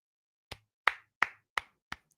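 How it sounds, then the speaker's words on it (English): Five light, evenly spaced golf claps, each crisp and separated by silence, slow and faint. "Golf claps for Cedric Mullins"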